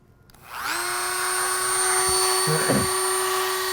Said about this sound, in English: one of these carbide cutters does do that in a hurry. And so just a simple rotary tool does work.